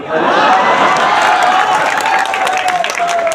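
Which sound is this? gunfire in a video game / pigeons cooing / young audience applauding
young audience applauding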